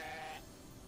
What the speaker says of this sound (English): Mr. Sheep, you will stay with me and we will have adventures, Mr. Sheep.